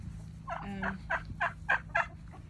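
A short run of clucking and gobbling fowl calls, about six choppy bursts in quick succession over a faint low hum.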